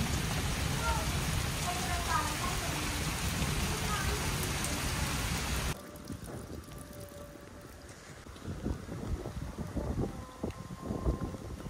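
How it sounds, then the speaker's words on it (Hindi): Steady rain patters down onto a veranda roof during the rice-planting season, dense and even at first, then thinner, with scattered drips and knocks. "इस बारिश का हमें बहुत ज़्यादा फ़ायदा होगा"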